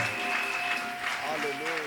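A church congregation applauds steadily for a couple of seconds, a dense continuous clapping with a held musical tone underneath.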